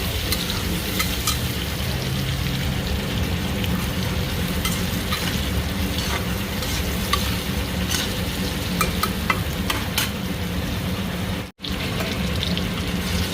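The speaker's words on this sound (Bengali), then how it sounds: "বেগুনগুলো ভালো মতো ভাজা হয়ে গেছে" Eggplant pieces fry in hot oil for a Bengali fish curry, giving a steady, loud, dense sizzle that runs without pause, apart from one brief dropout near the end.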